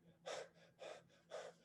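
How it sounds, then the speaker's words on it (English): Short, quick anxious breaths: three sharp gasping inhales in even rhythm, close and clear, with no talk, likely a person demonstrating nervous breathing. "Short, quick breaths, anxious,"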